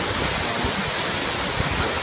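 Steady, dense rush of falling water at Tad Yuang waterfall in Laos, loud and continuous throughout with no voices, like standing close to a waterfall.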